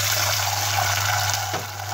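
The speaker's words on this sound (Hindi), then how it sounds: "अब हम इसमें पानी डाल देंगे।" Water pours into a pot of roasted whole masoor lentils, cumin and black pepper for khichdi, a steady close splashing gush that briefly dips near the end, no voices.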